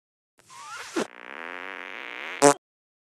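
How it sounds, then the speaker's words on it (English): A cartoonish fart sound effect from the video game South Park: The Stick of Truth: a long buzzing, wavering blat that ends in a short, loud sputtering burst. "Try and fart on me."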